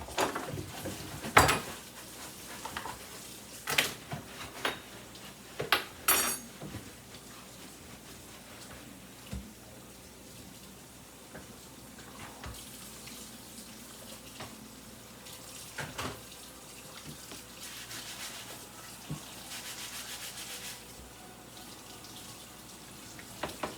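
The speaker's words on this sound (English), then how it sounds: "Any utensils that are gonna be washed," Utensils and dishes washed under a running kitchen tap, a steady soft water hiss throughout with scattered clinks and knocks of dishware, the loudest clatters near the start, no speech.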